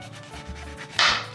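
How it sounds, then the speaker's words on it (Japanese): A knife cuts into an amanatsu citrus fruit in a kitchen beside a glass bowl, with quiet handling first and then one crisp, close rasping slice near the end. No one speaks. "甘夏を切るときにはまずは"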